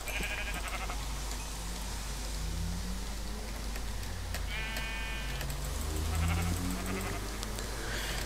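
Sheep bleat a few times in Minecraft over a constant, hissing rain-like background, their cries thin and synthetic.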